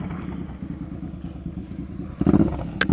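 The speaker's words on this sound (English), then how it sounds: "All right, so Clay wants me to try this on his motorcycle." A motorcycle engine runs at low speed during slow-speed riding practice, a steady close rumble that swells louder and rougher near the end as the throttle opens.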